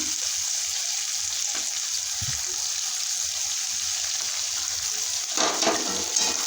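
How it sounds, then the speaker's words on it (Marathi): Tomatoes fry in a pan with browned onions for a paneer dish, a steady close sizzle running throughout, with a burst of louder crackling and stirring near the end. "तर आपण त्यात टोमॅटो टाकून घेऊया"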